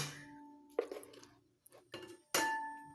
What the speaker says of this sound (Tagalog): Kukunin ko na ang kaldero. At hugasan ko na.